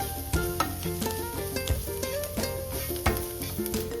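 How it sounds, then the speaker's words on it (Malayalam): Vegetables with turmeric and pepper powder stir-fry in a pan for Kerala-style beetroot thoran, giving a steady close sizzle broken by repeated scraping stirs. "നന്നായിട്ട് യോജിപ്പിച്ച് ഒന്ന് മൊരിച്ചെടുക്കാം"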